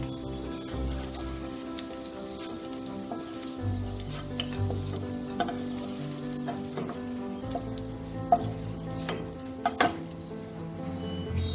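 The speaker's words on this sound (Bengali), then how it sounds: "এই পাশটাও আমি লাল করে ভেজে নেব।" Eggplant koftas frying in hot oil, turned so the second side browns, give a steady crackling sizzle with scattered louder pops and faint tonal hum underneath, close and continuous with no talking.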